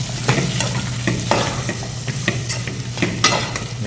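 Onions sautéing in a pan, a close, constant sizzle cut by repeated rhythmic scrapes and clacks of a spatula stirring against the pan.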